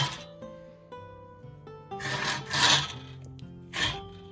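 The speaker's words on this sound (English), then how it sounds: "I'm just gonna saw this to just before where I want the bottom of the axe to sit." Hand saw cutting a slit into the wooden handle of a forged throwing axe, with steady rubbing strokes that grow louder and harsher toward the end, close up with no talk.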